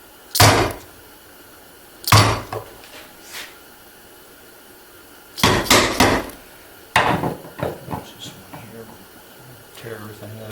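Hard wooden knocks from a chisel being struck while cutting wood come in uneven bursts, single blows and quick pairs, loud and close with quiet pauses between.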